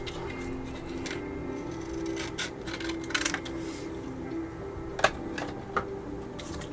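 A piece of 400 grit sandpaper being cut down, with scattered dry crisp snips and rustles close by in a quiet room, a couple of sharper clicks near the end.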